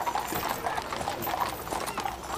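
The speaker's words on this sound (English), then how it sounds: "You then had the horses' hooves" Horses' hooves clip-clop steadily in a slow funeral procession, many overlapping hoofbeats at moderate distance with a faint crowd murmur behind.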